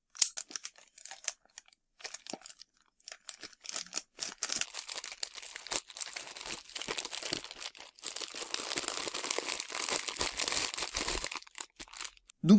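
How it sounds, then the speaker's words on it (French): Packaging around a PS4 headset is cut and pulled open, starting with sparse crinkles and snips and building into a dense, steady rustle and crinkling of plastic and card near the end. "Le casque est dedans donc on va l'ouvrir"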